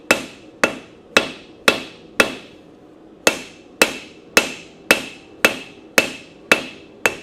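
A blacksmith's cross peen hammer strikes hot metal in a steady series of about thirteen sharp, ringing blows, each with a short decay, and a brief pause partway through; close and loud, with no talking.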